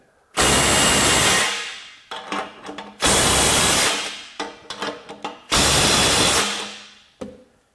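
A loud Ryobi P262 One+ HP 18V 1/2-inch cordless impact wrench on a 3 amp hour battery hammers in three long bursts loosening nuts, each followed by brief clattering handling noises, close up.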